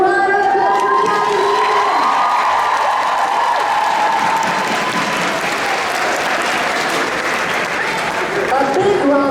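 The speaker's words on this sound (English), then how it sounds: "A big round of applause, guys." A large convention panel crowd bursts into loud applause with cheers, whoops and shouting voices, sustained and dense throughout, with vocal tones rising above the clapping.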